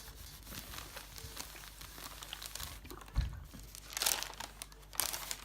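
Parchment paper crinkling and rustling as an iron is moved over heat transfer vinyl on a bow, with soft scattered crackles and a few louder crinkly bursts near the end, close up.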